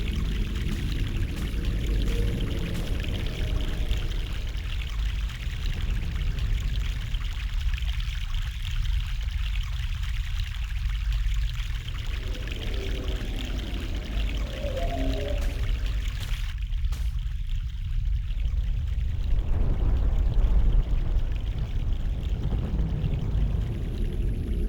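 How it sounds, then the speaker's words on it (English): Fresh mountain water pours in a steady, rushing stream, continuous and close, with the flow dipping and swelling slightly. "Fresh mountain water."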